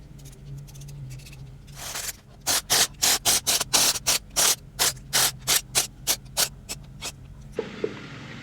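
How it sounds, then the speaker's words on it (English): A 3/16 hex socket works the nine bolts around the cam cover of a Zippers 534 engine, giving a long run of sharp, evenly spaced ratcheting clicks after a brief scrape. The clicks are close, loud and alone, with no talk. "Now take your 3/16 hex socket and just loosen the 9 bolts that is around the cam cover."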